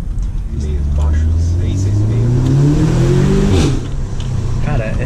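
An onboard car accelerates hard in a low gear, loud and close: the engine pitch climbs steeply, drops sharply at a gear shift, then climbs again. Speech runs underneath.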